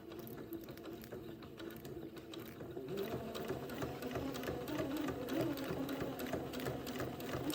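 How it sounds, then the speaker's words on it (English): Sewing machine stitching a straight seam beside an entredeaux ladder on a pinafore bib, a steady close rhythmic whirring and clicking of the mechanism running continuously. "let me get started sewing with a straight stitch just right next to the wide entredeaux ladder"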